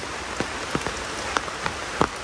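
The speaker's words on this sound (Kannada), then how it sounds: "ಮಳೆ ಬಂದು ಬಾರಿ ತಂಪಾಗಿದೆ, ಇದು ತೋಟ ಫುಲ್ ಊರೇ ಊರು ತಂಪಾಗಿದೆ." Rain falls steadily on a garden, with a soft continuous hiss and a handful of distinct drops or drips tapping close by over about two seconds.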